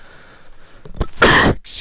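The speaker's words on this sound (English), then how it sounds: "Kind of coughed right into the mic." A man coughs right into a microphone, one short, sharp cough followed by a louder harsh burst and a brief tail, close and abrupt against a quiet background.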